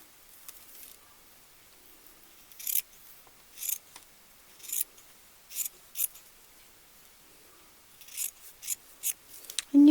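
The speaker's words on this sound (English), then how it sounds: "I'm just going to cut around it." Scissors cutting around a glued paper Easter bunny craft, a series of short crisp snips spaced irregularly and clustering toward the end, close and fairly quiet with no talk.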